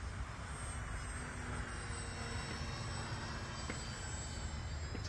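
A small E-flite Valiant RC airplane flies on a 4S battery, its electric motor giving a steady, distant buzzing whine with a faint high tone throughout, alone with no talk.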